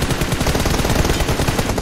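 Rapid automatic gunfire in the battle-royale game PUBG Mobile, a loud, close, continuous stream of evenly spaced shots filling the whole clip.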